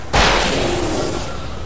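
A single loud, sharp gunshot in the video game Alan Wake, hitting suddenly and then ringing out with a long decaying tail, with no talking over it.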